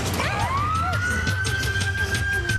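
A steady rising-and-holding siren wail in an animated film version of Puss in Boots, loud and continuous over a dense background of music and effects, with no speech.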